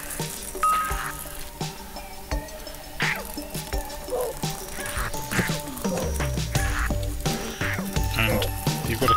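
Dangerous chickens in the video game FranknJohn squawk and cluck in a rapid string of short, sharp game cries over a busy background of effects, continuous and fairly loud throughout.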